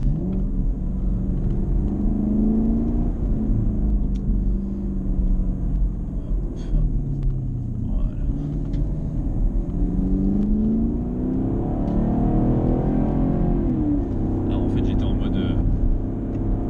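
A Chevrolet Camaro SS engine rumbles heavily from inside the cabin, a deep steady drone with gentle swells in revs, while someone talks over it.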